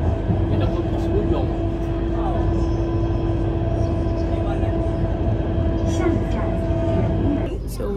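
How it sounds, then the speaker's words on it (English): Steady rumble and hum of a Shenzhen metro train in motion, with a constant tonal whine over the rolling noise, continuous throughout. "So we're on the second train."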